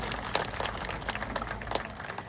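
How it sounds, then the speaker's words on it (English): Scattered clapping from a small crowd at a falcon and eagle bird show at Toronto Zoo, a steady patter of hands with occasional louder claps, heard at a moderate distance. "Let's give her a big round of applause."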